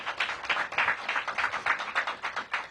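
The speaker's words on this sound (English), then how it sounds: "Give them a big round of applause." Rhythmic applause at a mayoral press event, a modest group of people clapping in a fairly even pulse for a few seconds, moderately loud with no speech.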